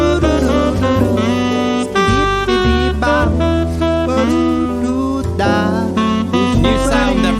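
A track played as a stream alert for five gifted subs: a busy, loud electronic pop tune with bass, steady beat and melodic lines running continuously for several seconds, no talking over it.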